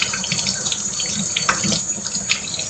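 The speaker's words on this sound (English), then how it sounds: "wash these squash" Tap water runs steadily into a sink while yellow squash are washed under it, a close, continuous splashing hiss with small bursts as the squash moves through the stream.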